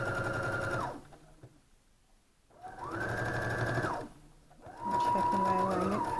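Home sewing machine stitching a five-pointed star quilt pattern, running in three loud, close bursts of rapid whirring separated by short pauses.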